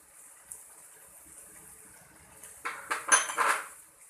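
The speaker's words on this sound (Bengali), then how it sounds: "ঢেকে চুলা বন্ধ করে দেব।" A lid is set on a cooking pan of coconut taro-and-shrimp curry. A quiet stretch gives way to a quick burst of loud, close metallic clatters and rattles near the end.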